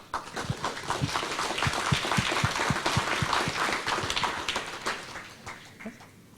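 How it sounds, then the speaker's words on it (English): An audience at a ceremony honouring a Nominated Member of Parliament claps steadily. A few loud, distinct claps stand out near the front of the room, and the applause builds and then fades over several seconds. "Let him give a round of applause."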